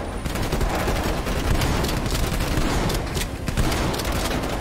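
Dense, continuous bursts of gunfire in Call of Duty Black Ops Cold War, rapid automatic shots overlapping with booms, loud and sustained throughout with no talking.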